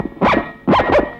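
A dog barks three times in close succession, loud and near, with two sharp barks following a first one after a short pause; no voices alongside.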